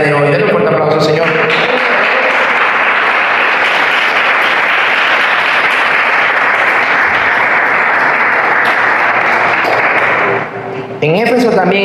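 Loud, sustained applause from a congregation inside a church during an evangelical sermon, a dense wash of clapping lasting about ten seconds before briefly dropping, with voices at the start and end.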